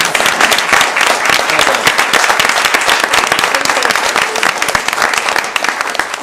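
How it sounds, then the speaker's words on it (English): A city council meeting audience gives loud, sustained applause for young fishing tournament champions, a dense unbroken wash of many hands clapping close by from start to finish. "So I want to have everyone give these young men a great round of applause for their achievements."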